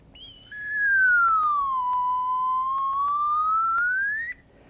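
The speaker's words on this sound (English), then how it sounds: "you pull on the slide and it's longer. You push it in and it's shorter, and you can hear the pitch change" A slide whistle sounds one continuous pure tone that glides downward, levels off, then rises again as the slide moves, clear and close with no talk over it.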